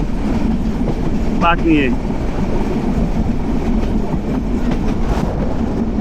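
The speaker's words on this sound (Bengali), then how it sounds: "এই যে আমাদের ট্রেন যাচ্ছে" The Mymensingh Express rolls along with a loud, continuous rattle of carriages and clattering wheels heard from inside, a short chirping squeak cutting through briefly and a few words spoken over the noise.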